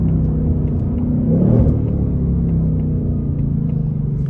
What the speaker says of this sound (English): We'll try another acceleration. Second gear.